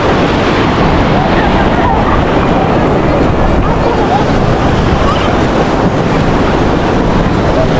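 Loud, continuous roar of surf and wind right at the shoreline of a beach in Camarines Norte, Philippines, with waves washing in steadily and no clear pauses.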